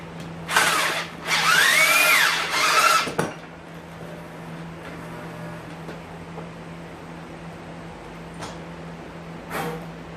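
A cordless drill with step bits bores through a part for a gas jug carrier mounted on a Reese hitch. Two loud, close whining bursts come in quick succession, followed later by a short final spin.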